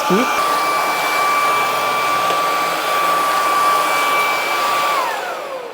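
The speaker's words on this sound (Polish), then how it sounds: "No i dokończmy sobie odkurzanie." A Laresar V11 cordless stick vacuum cleaner runs over a carpet with a steady, high-pitched motor whine. The whine holds close and constant for several seconds, then begins to wind down at the end.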